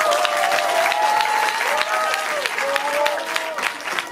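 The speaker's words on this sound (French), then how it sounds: "Applaudissez pour elle, s'il vous plaît." An audience applauds and cheers for a young woman at a French-language event, sustained clapping with voices and a whistle-like tone rising over the crowd.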